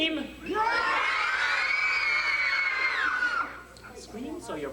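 An audience of children screams together in one long, loud, sustained burst that swells and then trails off, with scattered shouts and voices after.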